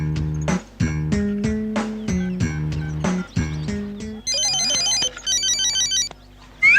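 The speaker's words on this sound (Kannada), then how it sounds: "ಯಾರ್ದದು ಫೋನು?" A mobile phone rings nearby with a loud, repeating melodic ringtone. A run of evenly spaced tonal notes gives way to a rapid trilling pattern, with brief gaps between the phrases.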